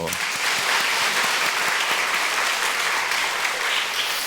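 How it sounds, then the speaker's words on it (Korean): A church congregation at a Sunday evening service in Ilsan claps steadily in dense, continuous applause that fills the room for several seconds, without talk over it. "여러분 박수 한번 쳐주세요."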